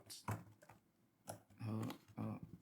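Keys tapped on an iPad keyboard, a few separate clicks and then two short bursts of rapid typing, close and fairly quiet, with no talk.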